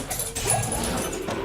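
A small dog gives a brief, close, soft whimper over a steady background hum.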